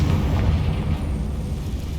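A Confringo spell explodes in Hogwarts Legacy with a loud, deep, roaring blast that rumbles steadily for about two seconds before easing slightly.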